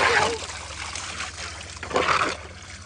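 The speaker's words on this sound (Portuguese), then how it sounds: "Agora vamos ligar a torneira e pegar o regador de água para ir mais rápido." Water from an outdoor tap and a watering can pours into a natural pool being cleaned, giving splashing, trickling bursts that swell and fade, loudest near the start and again around two seconds, close by.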